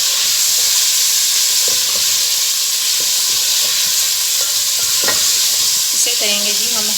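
Chicken sizzles and fries loudly in a pan with onion and garlic-ginger paste, a steady hiss of oil with occasional stirring scrapes and clinks, close and continuous with no talking.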